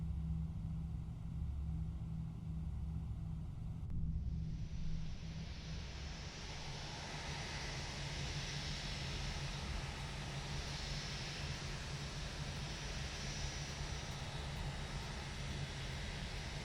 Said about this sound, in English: And let's start engine number 2.